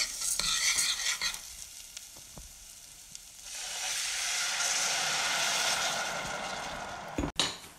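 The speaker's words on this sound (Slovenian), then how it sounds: "Dodamo 200 gramov arborjev riža, premešamo in zalijemo z belim vinom." Arborio rice and shallots are stirred in a pan with scraping strokes, then white wine is poured in and sets off a loud, steady hissing sizzle that lasts several seconds, ending with a sharp knock.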